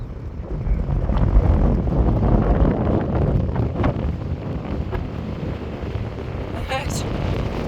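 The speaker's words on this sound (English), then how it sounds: "Wow, it's breezy up here." Wind gusts buffet the microphone on a breezy elevated canal walk, a steady rumbling roar, with brief bird chirps near the end.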